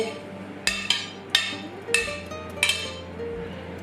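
Fruit pieces drop into a bowl with about six sharp clinks, each a bright ceramic tap, spaced irregularly over a few seconds at close range in a quiet kitchen.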